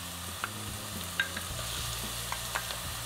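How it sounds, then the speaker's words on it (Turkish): Butter melting in a pan for peanut rice pilaf, giving a steady soft sizzle with a few sharp clinks of stirring utensils, close and moderately loud, no talking. "Hadi bu sefer tereyağını şimdi ekleyeyim."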